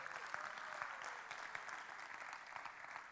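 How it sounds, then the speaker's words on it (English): Audience applause for the organizers of the YGLF JavaScript conference, a dense, steady clapping from a sizable crowd that holds at an even level throughout with no speech over it. "I just want to give a round of applause for the conference organizers"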